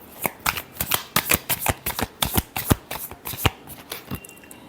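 Tarot cards shuffled by hand close up, a quick run of crisp riffling bursts in a steady rhythm, with no talking over them.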